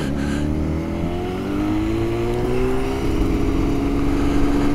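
A Yamaha RD350 YPVS two-stroke motorcycle fitted with performance expansion chambers burbles nearby, its engine note rising and falling with light throttle blips and a rough, buzzy exhaust tone.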